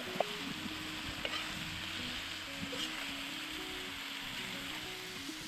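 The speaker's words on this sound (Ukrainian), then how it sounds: "Обсмажуємо цибулю з м'ясом." Onion and meat fry in a cauldron for shashlik, giving a steady, soft hiss of sizzling throughout with a few faint stirring knocks and no talk.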